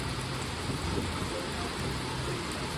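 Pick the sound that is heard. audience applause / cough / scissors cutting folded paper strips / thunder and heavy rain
thunder and heavy rain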